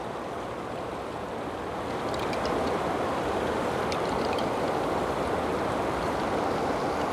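Water is poured steadily during a ritual foot washing, a continuous gentle splashing and rushing wash that holds at a moderate, even level with no talking.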